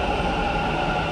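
Bangalore metro train arriving at KR Puram station, a steady loud rumble of rolling wheels and motor hum filling a short stretch without pause.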